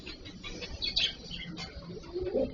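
A cockatiel parrot gives a few short, soft chirping calls close by, scattered over a couple of seconds against quiet background noise.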